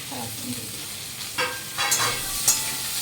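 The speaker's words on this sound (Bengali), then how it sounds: "সবার জন্য ভেজে নেব।" Chopped onion and tomato fry in a pan with a steady low sizzle, broken by a few louder stirring scrapes and bursts of hissing toward the end.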